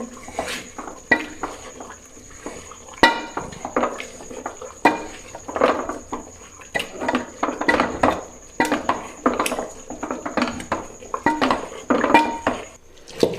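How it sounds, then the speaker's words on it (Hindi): Beef cooked for haleem is pounded in a pot with a wooden masher (ghota), giving rapid, uneven thumps and clatters against the pot, loud and close, continuing steadily throughout. "हुण असां घोटे नाल अच्छी तरह घोट गिनसूं गोश्त को ताकि चंगी तरह मैश थी वने"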